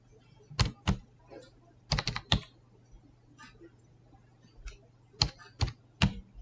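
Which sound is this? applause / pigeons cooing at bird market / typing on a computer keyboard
typing on a computer keyboard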